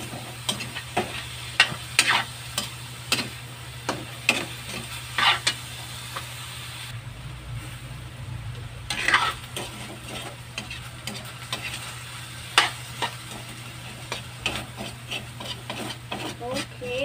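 Ground pork or beef (giniling) frying in a pan, a steady soft sizzle broken by repeated scraping stirs of a spatula, close and fairly loud, with occasional faint voices in the background.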